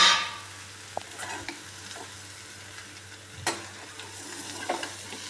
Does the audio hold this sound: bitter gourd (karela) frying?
yes